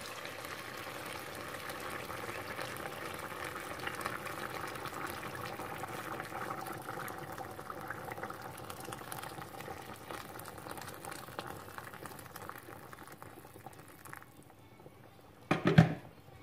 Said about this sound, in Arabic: طبعا انا غنضيف الماء